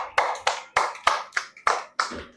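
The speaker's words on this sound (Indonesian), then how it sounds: "Tepuk tangan buat Yiyin." A classroom group claps for a student, about seven sharp, evenly spaced bursts of applause, close and clear with no talk over them.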